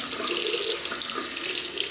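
Tap water runs steadily into a sink as a shaving brush is rinsed clean of soap, a close, continuous hissing splash with no voices.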